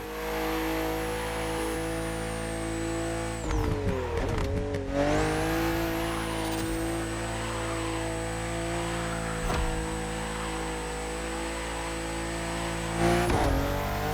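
A BMW CSL in The Crew Motorfest, engine holding a steady high drone with a brief dip and rev change midway, then climbing again, loud and continuous with no talk.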